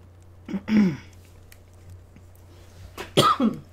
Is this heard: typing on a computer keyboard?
no